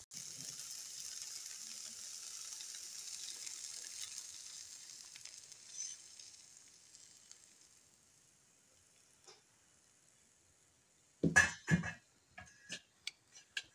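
Eggs fry in a pan with tomatoes, giving a steady soft sizzle that slowly fades, followed near the end by a few sharp clinks and taps of utensils.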